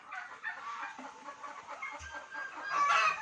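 Hens and roosters clucking and calling together at feeding time as they are served jackfruit biryani, a busy, overlapping chatter of several birds at moderate distance.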